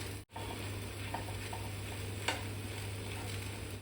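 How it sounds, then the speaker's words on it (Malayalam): Kingfish pieces being coated in masala in a frying pan, giving a steady close sizzle with a few soft clinks and stirring scrapes, no voices. "നമുക്കിനി ആ വറുത്ത് വെച്ചിട്ടുള്ള ഫിഷ് ആയിട്ട് അതിലേക്ക് ആഡ് ചെയ്ത് കൊടുക്കണം."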